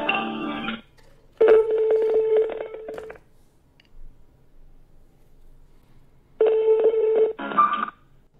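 Touch-tone telephone dialing on a call line, with steady DTMF beeps in two bursts separated by a quiet gap, clear and close.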